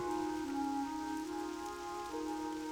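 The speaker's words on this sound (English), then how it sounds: "I like the sound of the rain." Steady rain falls in the Redridge Mountains in World of Warcraft, a soft continuous patter on surfaces beneath sustained tonal game music, quiet and calm with no voices.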